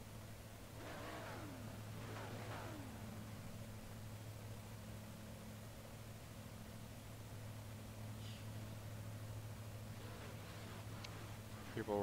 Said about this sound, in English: People revving the engines up.